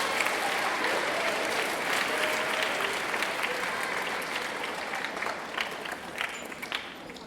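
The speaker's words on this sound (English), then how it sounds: "Please give them a round of applause for their work." An audience claps for students at a middle school academic awards ceremony, a broad, sustained round of applause that holds steady before thinning slightly toward the end.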